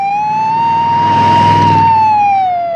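Ambulance siren from a film scene, a loud single wailing tone rising slightly then falling as the vehicle passes close, heard alone and cutting off abruptly at the end.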